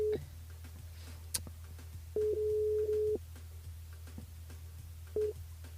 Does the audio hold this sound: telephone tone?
yes